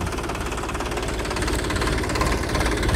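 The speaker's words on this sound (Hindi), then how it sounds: "और ये ट्रैक्टर स्टार्ट हो गया" Tractor engine running steadily with a super seeder for wheat sowing in a field, a loud, continuous knocking diesel drone with vibration throughout, close and alone.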